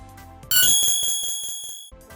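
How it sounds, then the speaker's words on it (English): A bright metallic Sonic the Hedgehog CD sound effect, FM sound 60, strikes once, ringing with a shimmering, echoing tail that repeats faintly before cutting off. "Sound ID FM number 60 is an echoey spike-like sound."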